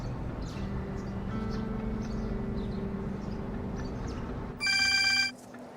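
A telephone bell rings in a short loud burst near the end, after a stretch of steady low room hum and faint background noise.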